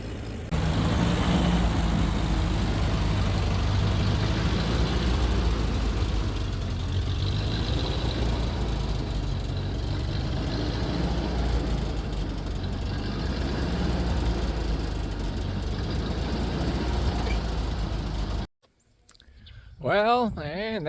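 A tractor engine idles with a steady low rumble for a long stretch in a farm field, then cuts off abruptly near the end.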